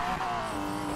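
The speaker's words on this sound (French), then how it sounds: "La Porsche quand elle drift, elle te nettoie tes péchés même." A Porsche drifting in Need for Speed Payback, its engine droning steadily while the tires squeal in a sustained skid, loud and close throughout a brief moment.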